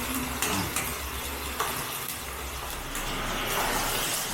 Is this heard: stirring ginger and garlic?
yes